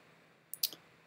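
Two or three quick, faint clicks of a computer mouse in a quiet room while working in After Effects, with no talking.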